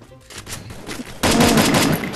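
Rapid bursts of gunfire in the mobile shooter Garena Free Fire start loud and close about halfway through and keep going, with quieter game noise before them.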